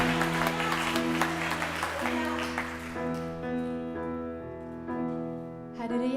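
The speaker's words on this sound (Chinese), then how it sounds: "让我们将我们最大的掌声、最大的欢呼献给我们的上帝" A church congregation at a Mandarin-language worship service claps and cheers, with a burst of applause that fades under sustained organ or keyboard chords.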